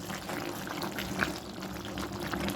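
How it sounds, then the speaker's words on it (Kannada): About half a glass of water is poured into a ridge gourd stir-fry in a pan. A gurgling, splashy stream runs throughout with a brief louder splash midway, close and moderately loud, with no talking. "ನಾನು ಸ್ವಲ್ಪ ನೀರು, ಒಂದು ಅರ್ಧ ಲೋಟದಷ್ಟು ನೀರು ಮಾತ್ರ ಹಾಕಿದ್ದೇನೆ"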